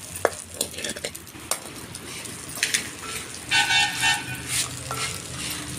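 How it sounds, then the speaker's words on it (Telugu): Sesame seeds roast in a pan as a spoon scrapes and stirs them, giving a soft crackling sizzle punctuated by irregular metallic scraping and tapping sounds. "నువ్వులు మంచిగా ఎగుతాయి"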